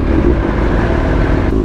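Dense road traffic on Marcos Highway heard from a rider on a Kawasaki ZX6R, a continuous loud rumble of many car and motorcycle engines close by, steady throughout with no talking.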